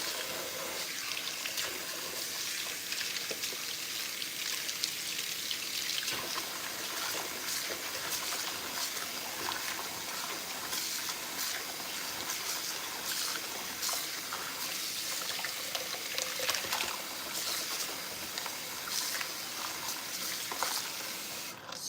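Tap water runs steadily while something is washed in a sink before breakfast, a continuous faint hiss and splash with occasional clinks, no talking.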